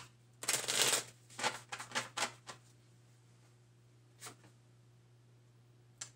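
Playing cards being shuffled and drawn for a reading game, a loud riffle burst followed by several soft slaps and flicks, then quieter isolated taps against a faint steady hum.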